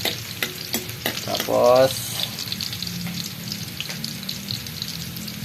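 Garlic sizzles loudly in hot oil in a pan for a vegetable stir-fry. The sizzle is close, with utensil scrapes and a brief voice near the start.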